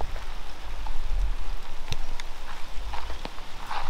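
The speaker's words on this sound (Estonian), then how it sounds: "Vihma hakkas sadama." Light drizzle falling outdoors on Langkawi island, a steady soft patter and hiss of raindrops all the way through, with a few sharper drips and faint rustles and no talking.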